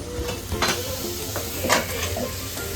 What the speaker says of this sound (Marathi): याच्यामध्ये कांदा आणि ऑइल टाकलेलं आहे. तर याला स्वते करून घेतेस ना?